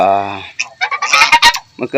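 Ducks in a farmyard pen give a run of rough honking calls, close and fairly loud, following a brief sustained tonal call at the start.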